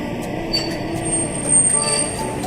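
A DC Metro train rolls along with a steady, rumbling roar, faint rhythmic clicks and a thin high squeal above, continuous and fairly close with no talking.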